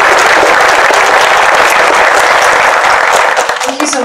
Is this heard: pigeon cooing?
no